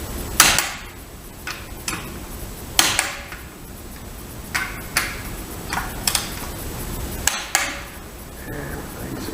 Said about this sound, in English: Put that bolt down to 65 foot-pound.